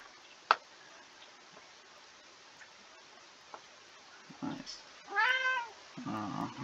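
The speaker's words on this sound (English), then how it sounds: "As you just found out, I got a cat. And he wants attention." A pet cat meows for attention: a short, rising meow near the end, then a lower call, after quiet scattered taps and clicks.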